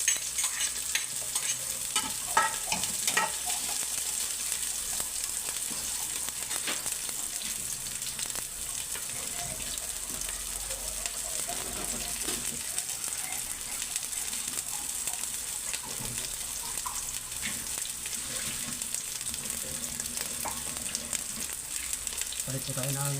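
Chopped onions sizzle and hiss steadily in a hot pan beside garlic, with intermittent stirring scrapes and clatters up close over a continuous frying bed.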